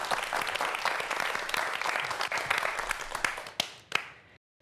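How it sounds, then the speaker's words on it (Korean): A lecture audience applauds steadily in a hall after a talk on insects and food security, dense clapping that fades out near the end. "자, 박수 한번 부탁드리겠습니다."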